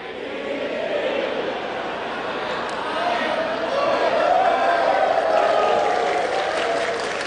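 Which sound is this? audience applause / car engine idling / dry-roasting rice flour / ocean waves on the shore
audience applause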